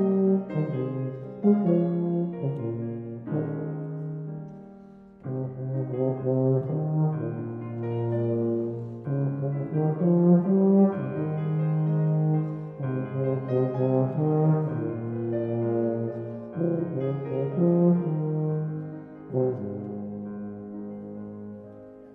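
A tuba plays alone during a music masterclass, with sustained low, rich notes in a continuous phrase that rises and falls over about twenty seconds, close and fairly loud, with no talking.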